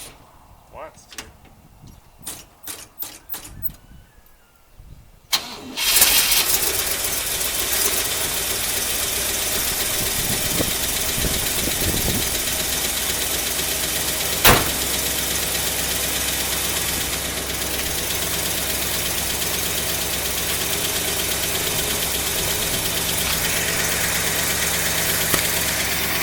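A 1956 Cadillac Sedan DeVille V8 fires up after a few seconds of cranking and knocking, then settles into a steady, close idle with a ticking exhaust leak, a sharp clunk midway.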